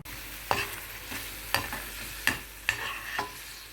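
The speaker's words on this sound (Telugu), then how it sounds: "చక్కగా వేగిపోయినాయండి స్టవ్ ఆఫ్ చేసేస్తున్నాను" Mint leaves, sesame seeds, chana dal, urad dal and cumin frying in a pan for mint chutney give a steady, close hiss, broken by sharp scraping stir strokes about once a second.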